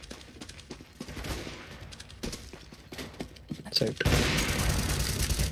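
Gunshots in an online multiplayer shooter video game, a scattered series of sharp shots followed by a heavier sustained burst of fire, with someone talking over them.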